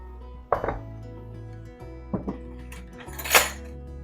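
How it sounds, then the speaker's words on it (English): A spoon scrapes and knocks against a pot of broccoli cheddar soup in a home kitchen, a few separate metallic clinks and a brighter clatter near the end, with low background hum. "Give that a nice stir."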